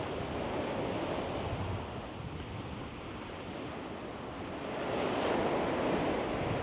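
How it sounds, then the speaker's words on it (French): Rough sea waves roll and crash in a continuous roar, with wind buffeting the microphone; the surge swells louder toward the end. "Là, on a une mer agitée. D'habitude, ce n'est pas aussi agité que ça, mais comme je vous dis, il y a du vent."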